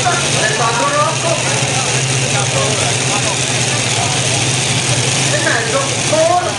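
Tractor pulling engine of the Rocco Power Team at a 2011 competition in Gonzaga, roaring steadily at full throttle under a commentator's continuous talk.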